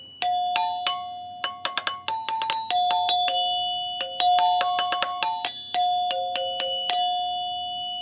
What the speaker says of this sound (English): Here's another example of a 4-chime unit.